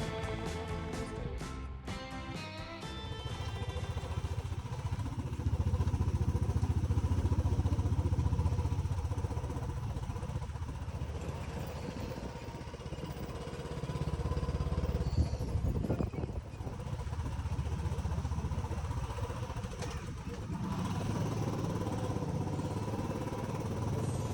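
Motorcycle riding a mountain road toward Kaza in the Spiti Valley of the Himalayas, a steady engine drone swelling and easing with throttle and rough rumble for about twenty-four seconds, no voices.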